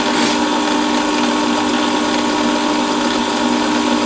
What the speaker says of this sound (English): we'll stop the lathe now